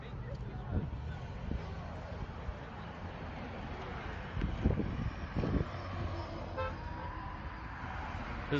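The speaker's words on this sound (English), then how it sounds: "There's a lot of cars honking going by." Cars drive past on a street outside a church, and a few short horn toots stand out over steady traffic rumble while people talk throughout.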